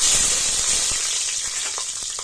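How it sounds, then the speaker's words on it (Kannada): Green chillies dropped into hot oil with whole spices such as bay leaf and cumin, a loud, dense sizzle that bursts up at once and then fades slightly, with a few light crackles. "ಈಗ ಇದಕ್ಕೆ ಮೂರು ಹಸಿಮೆಣಸಿನ್ಕಾಯಿ ಹಾಕೋತಾ ಇದ್ದೀನಿ"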